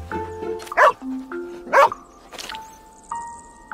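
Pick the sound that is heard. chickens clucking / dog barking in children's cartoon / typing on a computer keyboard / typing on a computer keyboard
dog barking in children's cartoon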